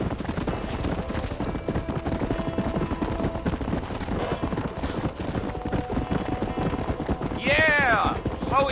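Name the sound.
horse galloping in video game Red Dead Redemption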